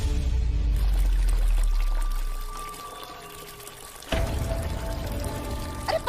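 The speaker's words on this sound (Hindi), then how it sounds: "अरे देखो तो कितना पानी बह रहा है।" Heavy water gushes and pours strongly, eases off, then surges loudly again in a steady rushing flow with a trickling edge, no voices over it.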